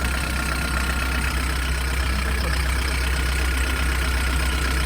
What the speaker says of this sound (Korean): 혹시 엔진 소리나 이런 거 들어봤을 때 문제가 있지 않아요?